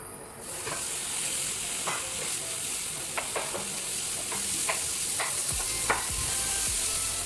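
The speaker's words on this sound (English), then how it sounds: "I will straight go on into pan frying the chicken as well" Chicken sizzles steadily in a hot pan, a constant crackling hiss with occasional scraping stirs and small pops.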